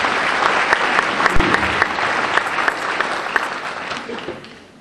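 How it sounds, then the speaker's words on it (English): Audience applause at a community choir concert, a steady wash of many hands clapping throughout, gradually thinning and fading toward the end. "give yourselves a round of applause and the Richmond Lions Club"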